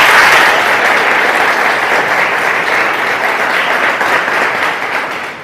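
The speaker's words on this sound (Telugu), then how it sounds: "పూర్ణిమ మేడంకి క్లాప్స్ కొడదాం" Audience applause honouring a faculty member at the closing ceremony of a five-day training programme at NG Ranga social science college; steady, dense clapping from a crowd, loud and sustained, easing slightly toward the end.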